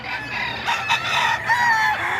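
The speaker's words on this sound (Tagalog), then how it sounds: "Puro magaganda yung manok ni tatay." Rooster crowing among a farm flock of hens and roosters, a drawn-out crow rising over steady background clucking and bird calls, fairly close and continuous throughout.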